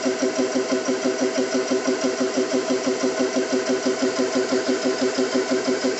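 A Xisico CS3 4500 PSI portable high-pressure air compressor runs steadily and loudly up close, its rapid, even pumping pulse churning without pause as it builds pressure.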